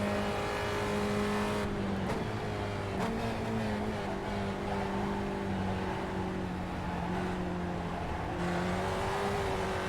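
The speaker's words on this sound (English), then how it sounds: "I really do love how much throttle work this car requires" Simulated race car engine lapping Lime Rock in iRacing, a steady loud drone with harmonic pitch shifting as the throttle is worked, brief lifts and pickups near two, three and eight seconds, no voices.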